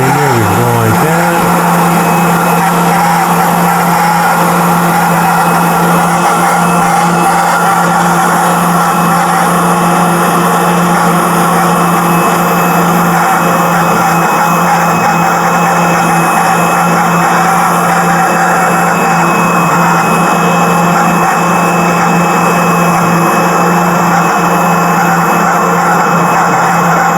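A power sander works over a small wooden pull toy, getting down into its grooves and valleys; a steady, unbroken whine with a strong low hum runs close and loud throughout, with no voices.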